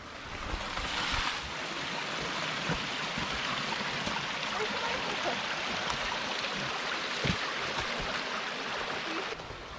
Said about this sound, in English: we followed that little stream up from the waterfall